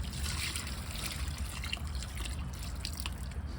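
Water trickles and splashes onto garlic plants in a garden bed, a soft, continuous dribbling with scattered drips, faint and close, with no voices.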